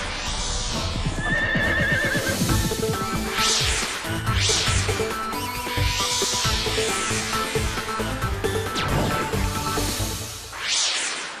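A horse neighs loudly several times in a row, with scattered hoofbeats and whip-like cracks mixed into a busy, continuous soundscape during a wedding procession.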